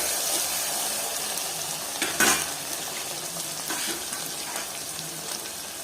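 Turmeric is stirred into a sizzling curry mixture in a pan for mutton curry, a steady frying hiss with a few spatula scrapes against the pan, one louder clatter midway.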